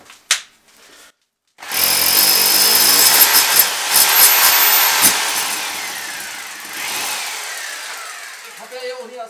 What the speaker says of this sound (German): Man muss auch den Bohrer anschalten,